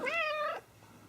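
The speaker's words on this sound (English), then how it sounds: "the ever-present cat" A cat meows once in a loud, close, drawn-out call with a clear harmonic tone, heard in a garage during the windshield installation on a 1972 Chevrolet K25 truck, trailing off into quiet room hiss.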